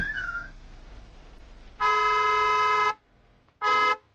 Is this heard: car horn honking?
yes